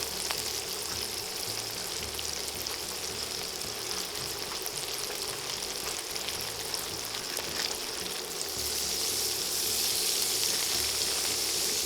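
Tomatoes with carrots and cooking wine sizzle and bubble in a pan while deglazing, a steady, even frying hiss that continues throughout and grows slightly louder near the end.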